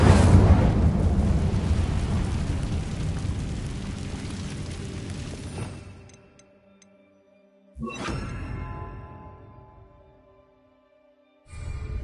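The Incendio fire spell cast in Hogwarts Legacy, a loud fiery whooshing burst that decays over several seconds, followed by two more shorter bursts separated by near silence.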